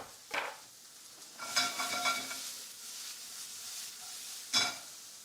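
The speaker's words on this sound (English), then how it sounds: "And in we go with our onions." Onions go into a hot pan for a pot pie and sizzle steadily, with a few louder scrapes and stirring knocks over the continuous frying hiss.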